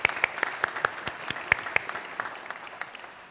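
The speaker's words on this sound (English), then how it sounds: "Give yourself an applause." A town hall audience in Duluth gives applause, with sharp individual claps standing out at first over a softer rolling patter that gradually thins toward the end.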